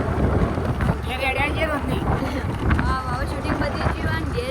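Heavy wind rushes and buffets the microphone while riding a Honda Activa scooter outdoors, a steady low roar, with people talking over it.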